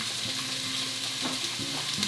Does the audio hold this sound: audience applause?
no